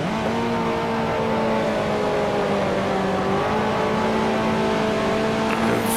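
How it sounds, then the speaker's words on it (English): A historic racing car in a video game drops down into fourth gear and brakes toward Stavelot, its engine note droning steadily and loudly with shifting pitch tones throughout, no talking. "Down into fourth, braking a little bit earlier to get myself set up."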